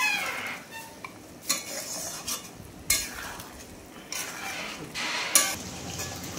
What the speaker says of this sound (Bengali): জলটা গরম হওয়া পর্যন্ত ওই মাংসটাকে কষবো।